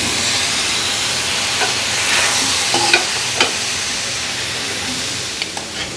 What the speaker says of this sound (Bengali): একে একটু নেড়ে চেড়ে মিক্সড করে নিচ্ছি